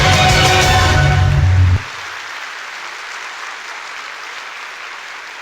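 A large audience claps loudly at a corporate vision ceremony. A burst of music drops out early and leaves a steady wash of applause.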